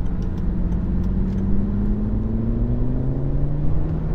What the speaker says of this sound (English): it truly unlocks that sweet, sweet burble of the 5-pot.